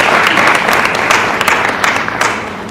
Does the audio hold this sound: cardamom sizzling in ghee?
no